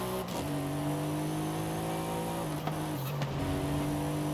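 A Mercedes-AMG SL63 engine in Forza Horizon 5 holds a steady, loud revving drone, dipping and climbing again through a few gear or throttle changes, with no talking over it.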